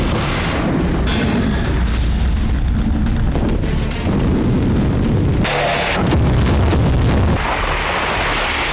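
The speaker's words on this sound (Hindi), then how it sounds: "सुमी में रूसी सेना एक हफ्ते से इसी तरह भीषण विस्फोट कर रही है" Heavy explosions from Russian strikes on Sumy, Ukraine, a dense continuous roar of booms and rumbling blasts with sharp cracks near the end, loud throughout and with no voices.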